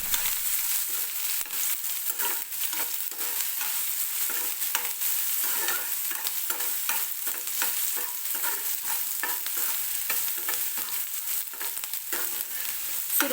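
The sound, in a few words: onion, curry leaves and whole spices roasting in oil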